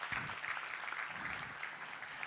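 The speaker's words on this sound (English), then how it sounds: "Let's give them another round of applause." Audience applause at a talk event, a dense burst of clapping from a crowd, fairly distant and steady, fading slightly toward the end.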